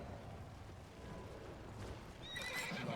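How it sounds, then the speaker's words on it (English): A horse in a video game clip-clops and then gives a neigh near the end, all faint and low in the mix with no speech. "Oh, horse."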